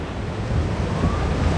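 Water splashes over riders on the Iron Gwazi rollercoaster at Busch Gardens in Florida, a brief, loud, rushing burst of spray mixed with wind noise buffeting the microphone.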